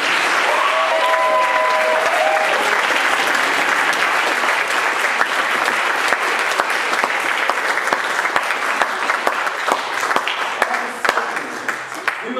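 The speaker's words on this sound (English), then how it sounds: "Give them a round of applause." Audience applause at a university spring musical, a loud, dense burst of clapping from a large crowd that holds steady, then thins slightly toward the end, with a brief voice at the start.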